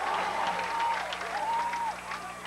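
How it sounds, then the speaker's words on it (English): A high school football playoff crowd cheering and applauding at kickoff, a continuous roar of clapping and shouts, with a voice talking over it and some tonal whistling glides. "The crowd is on their feet"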